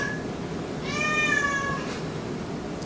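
A domestic cat meows once in a drawn-out, clear call, fairly close and alone against faint room noise, with no talking.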